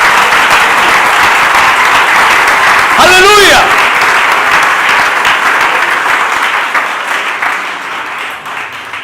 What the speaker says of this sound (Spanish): un aplauso de los salvos para Dios